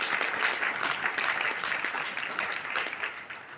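Dense, steady applause fills a DXN business meeting hall in Kapilvastu. Many hands clap together in a continuous, fairly loud wash that holds without a break.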